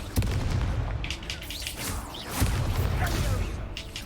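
In the video game Hogwarts Legacy, a Confringo fire spell explodes as a deep boom with crackling whooshes, followed by a second blast partway through amid ongoing game effects.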